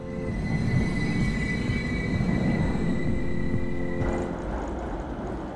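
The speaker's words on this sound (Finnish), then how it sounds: "Useimmat ratikat hajoisivat näillä raiteilla ajamiseen, minkä takia Helsinkin on pitänyt räätälöidä omat raitiovaunut." Helsinki tram running on its rails gives a continuous rumbling roll with a faint high wheel squeal and hum, steady and close throughout, without any voices.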